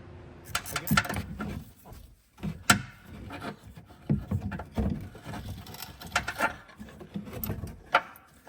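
A wrench loosens the 13 mm battery bracket bolt on a Dodge Journey, giving close, scattered metallic clicks and scraping rubs with brief pauses between turns.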